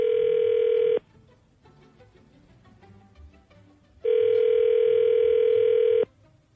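A telephone ringback tone sounds twice, steady electronic tones of about a second and two seconds separated by a quiet gap with faint background noise.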